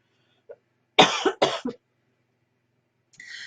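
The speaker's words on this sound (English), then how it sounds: "I just coughed then" A woman's cough, with two or three sharp, close bursts in quick succession followed by silence and a short faint throat sound at the end.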